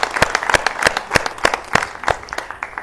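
A studio audience claps for two singers in the final round of a televised singing competition, a dense, lively burst of close applause with sharp individual claps throughout.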